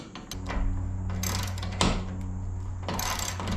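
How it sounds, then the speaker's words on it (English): A lag bolt is driven and tightened through a kayak hoist bracket into wood: close, loud ratcheting bursts in several runs separated by short pauses, with a clicking mechanism and no talk. "install my lag bolt and tighten everything up"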